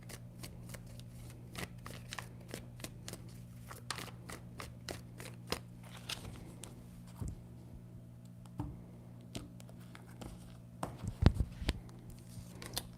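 Tarot cards are shuffled in a quiet room, giving repeated soft riffling flicks and light taps at an irregular pace, with a slightly louder flurry of snaps near the end and no talking.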